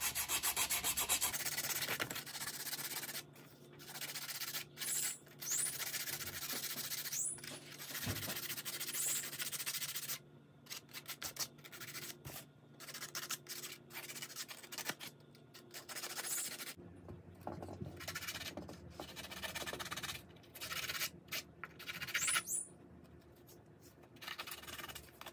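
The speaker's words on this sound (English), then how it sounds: "So now I'm gonna do a whole bunch of sanding." A handmade wooden sea turtle fishing lure is sanded by hand, steady rubbing and scratching strokes going on throughout at close range, with short pauses and changes in rhythm and no talking.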